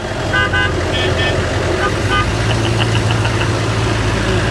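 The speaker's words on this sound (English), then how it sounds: "That's the horn." A Humvee horn toots in several short repeated honks over an idling, knocking engine, close and loud, at a gas station, with people talking around it.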